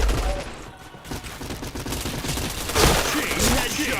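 Rapid, dense bursts of gunfire from the first-person shooter game Point Blank crackle almost without pause, loud and close, with a voice faintly present underneath.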